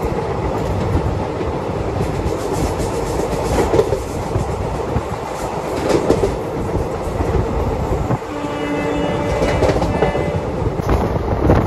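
A train rumbling along the tracks with rhythmic clickety-clack from inside a carriage, steady and loud, with a brief metallic squeal near the end.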